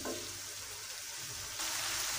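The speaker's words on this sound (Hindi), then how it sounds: "स्पाइस को हम अच्छी तरह भून लेते हैं।" Biryani masala spices frying in hot oil, a soft steady sizzle close by and fairly quiet, swelling a little louder toward the end.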